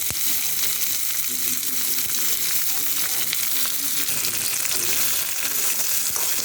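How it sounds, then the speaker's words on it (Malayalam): Tomatoes and onion frying in a pan for ema datshi, a steady close sizzle with soft scraping from stirring throughout. "നന്നായിട്ട് ഇളക്കി യോജിപ്പിച്ച് കൊടുക്കാം"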